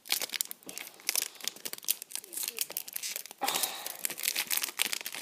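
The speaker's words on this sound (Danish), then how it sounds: "blande de her kort." Playing cards are shuffled, producing a run of crisp riffling and rustling bursts with brief pauses, close and fairly quiet.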